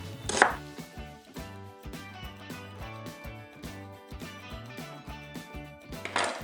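A knife cuts an onion in half on a board, giving two sharp, close cutting sounds, one near the start and one near the end, over steady rhythmic music playing throughout.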